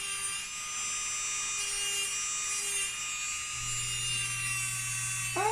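Melody Susie Scarlet electric nail file running steadily at speed 20, a continuous high whine with a steady tonal hum; the pitch shifts slightly near the end as the load changes.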